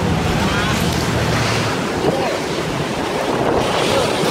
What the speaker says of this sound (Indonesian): Eh, anginnya gede.